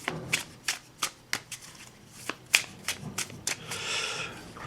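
Playing cards being shuffled by hand, a quick run of crisp riffling snaps and flutters at close range, fairly quiet with no talk over it.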